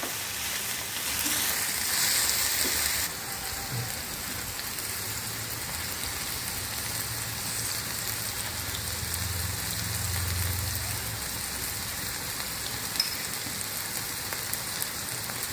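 Vegetables for noodles cook in a pan, producing a continuous rain-like sizzle that is louder in the first few seconds, then a steady hiss with faint low rumbles.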